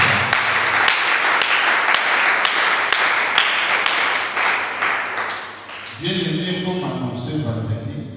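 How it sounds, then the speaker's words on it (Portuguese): A worship congregation applauds at a church service, dense continuous clapping that fades after several seconds as music with sustained tones takes over. "Aplaudimos ao Senhor."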